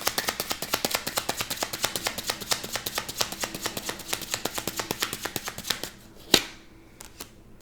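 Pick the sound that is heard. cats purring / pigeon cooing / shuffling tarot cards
shuffling tarot cards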